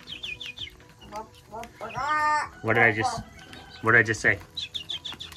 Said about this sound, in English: I don't know how to speak baby chicken.